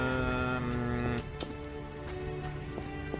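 Rain in the video game The Witcher patters steadily with scattered drop hits, partly masked by sustained musical tones during the first second.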